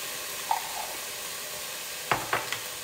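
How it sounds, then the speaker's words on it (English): Minced garlic sizzles softly in a soup pot as it browns, a faint steady hiss with a few brief stirring scrapes near the end. "Brown your garlic."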